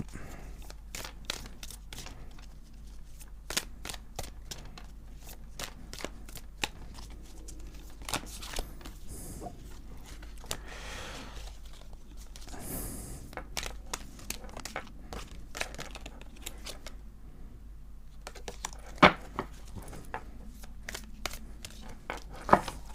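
Tarot cards are shuffled and handled close up, a dense run of soft crisp flicks, slides and crinkly taps at an irregular rhythm over quiet room noise, with no one talking.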